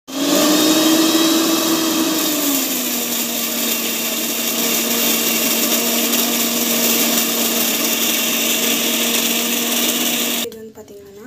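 A kitchen mixer grinder whirs loudly while grinding mint chutney, a steady high-pitched motor whine that dips slightly in pitch early on, runs evenly, then cuts off abruptly near the end.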